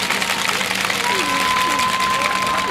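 Crowd applause opening the 1354th regular Wednesday demonstration for resolving the Japanese military sexual slavery issue, a dense sustained wash of clapping from a gathered crowd, loud and continuous with faint voices mixed in.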